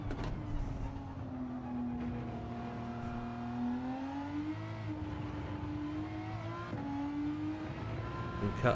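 A race car engine in a racing video game holds a steady high drone, then revs up and dips through gear changes, with the pitch rising and falling around the midpoint, heard as a continuous moderate mechanical whine.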